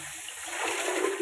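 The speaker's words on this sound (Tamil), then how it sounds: "தண்ணி ஊற்றி ஊற வச்சு" Water pours and splashes onto rice set to soak in a pot, a steady rushing wash that grows slightly louder over a brief moment, with no talking.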